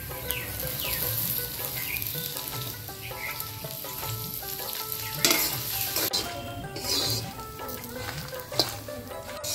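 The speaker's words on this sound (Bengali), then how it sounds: "শুকনো লঙ্কার সাথে একসাথে ভেজে নিব রসুন।" Garlic and dried red chillies frying together in mustard oil, a close, continuous crackling sizzle with stirring scrapes and occasional sharper pops, no voices throughout.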